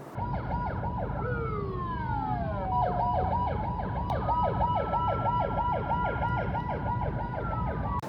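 Ambulance siren passing on a Korean street, a loud wailing and yelping tone with rapid repeated sweeps that shift pitch as the vehicle goes by, steady traffic rumble underneath throughout.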